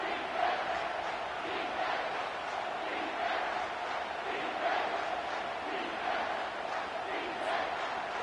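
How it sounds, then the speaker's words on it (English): A football stadium crowd roars and chants continuously on a third down, a dense, sustained wall of cheering voices heard from within the stands at a steady level. "Third down, and the crowd really getting into it."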